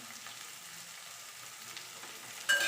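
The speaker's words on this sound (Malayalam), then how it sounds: "വറുക്കുമ്പോൾ" Steady frying hiss from a pan of okra and egg stir-fry, continuous and fairly quiet, with a brief louder crackle near the end.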